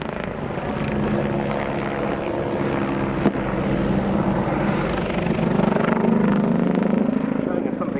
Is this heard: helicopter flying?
yes